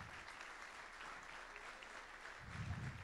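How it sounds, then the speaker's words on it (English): An audience at a fall National Letter of Intent signing event for student athletes applauds, a steady, moderately distant wash of clapping that swells slightly toward the end, with low murmuring underneath. "let's give these guys one more big round of applause"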